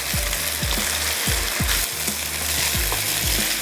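Sliced potatoes and onion fry in a pan for aloo bhujia under a constant close sizzle, while a spatula scrapes and knocks against the pan in a regular rhythm roughly every half second.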